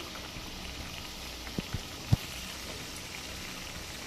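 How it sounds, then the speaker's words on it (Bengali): A thin red eggplant and potato curry bubbling in a pot, with a steady soft simmer hiss and a few small pops partway through, close by and alone. "ঝোলটা কত সুন্দর ফুটতেছে"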